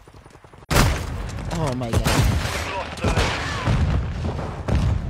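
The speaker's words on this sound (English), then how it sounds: "Throwing sensors. Throwing flash grenade." A flash grenade in a first-person shooter goes off with a sudden loud burst after a quiet start, followed by dense gunfire and game effects, while a player talks over it.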